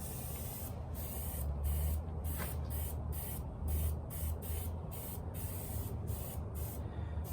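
A spray gun hisses in a continuous stream with short regular breaks, close and steady, as car paint is laid down in repeated passes.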